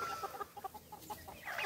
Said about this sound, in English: I think that's a rooster right there.